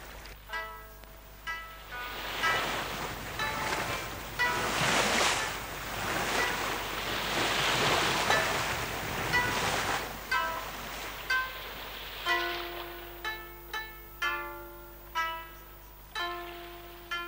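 Sea waves rolling on the calm waters of the Gulf of Morbihan in Brittany, a long swell of surf and wind noise that fades to quieter lapping, with bright tonal chimes repeating near the end.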